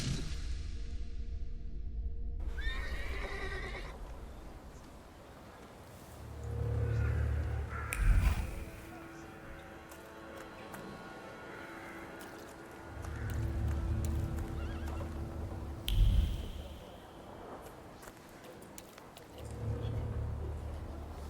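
A horse whinnies and snorts with clip-clopping hooves in the video game The Thaumaturge, several neighs rising over steady hoofbeats across a quiet rural soundscape, with distant crow caws in the background.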